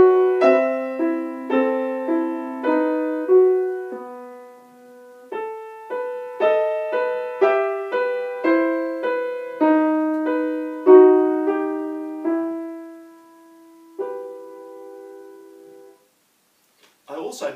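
A solo piano piece played expressively, melody rising over a steady accompaniment, phrases swelling and fading, ending with a brief pause and a soft noise.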